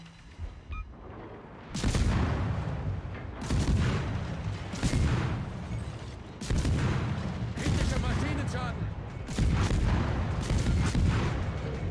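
Shells strike and burst around a Z-35 German destroyer in World of Warships: several loud booming salvos arrive in uneven bursts, each rumbling for a second or more, with a voice talking between them.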